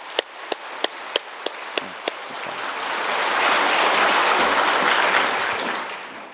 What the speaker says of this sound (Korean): 박수로 우리 먼저.